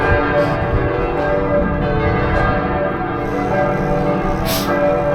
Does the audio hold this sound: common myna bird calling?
no